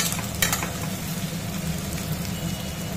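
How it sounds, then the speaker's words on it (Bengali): Potatoes and onions fry together in a pan with a steady, dense sizzle throughout, close and even, with a brief stirring clatter near the start. "আলু আর পেঁয়াজ একসাথে ভাজা হচ্ছে"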